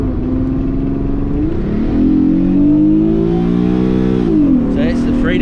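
A 2-litre, 200 hp V6 engine revved up close, its loud tone rising, holding high, then dropping back as the revs fall, with a person talking briefly over it.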